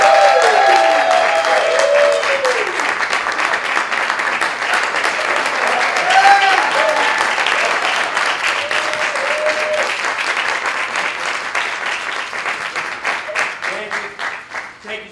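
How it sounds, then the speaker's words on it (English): A loud theater audience applauds two presidential nominees at a comedy town hall debate, dense clapping that carries on with some cheers and crowd voices and slowly fades toward the end. "please give a round of applause to our two nominees"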